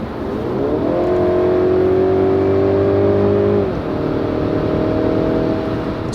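A 2022 Mercedes-Benz C-Class, the new generation in light camouflage, drives with a loud, steady engine drone that climbs in pitch, holds, then drops as it shifts gear and settles into a constant cruise.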